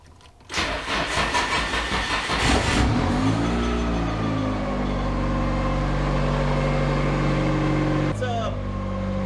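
A Nissan S14 engine cranks with a rapid starter chatter, catches and fires up, then settles into a steady rumbling idle with a brief blip near the end, loud and close.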